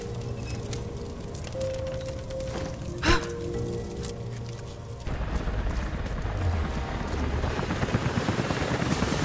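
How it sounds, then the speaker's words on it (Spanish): Helicopters in the video game Rise of the Tomb Raider thrum in a dense rotor roar throughout, mixed with rain-like noise, one sharp thud midway, and a louder, rougher wash after the halfway mark. "los helicópteros se dirigen a tu posición."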